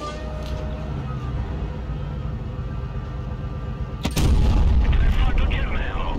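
A single heavy cannon blast from a tank in the World of Tanks Blitz video game, a sudden loud boom followed by rumbling tail, after steady engine drone with someone talking over it.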